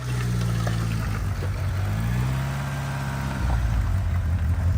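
A Mitsubishi Eclipse barn find that had been sitting drives forward under its own power, its engine a steady, fairly loud low drone with gently shifting pitch, with no talking.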